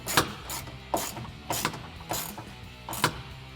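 Ratchet wrench tightening bolts on the clamps of a Pace Edwards UltraGroove retractable bed cover on a Toyota Tundra, five loud, close bursts of rapid clicking spaced roughly half a second apart, with no talking.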